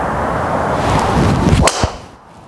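A whooshing swing ends in a sharp crack as a TaylorMade Stealth Plus or SIM2 driver strikes a golf ball, a single clean impact followed by a fading rush of air.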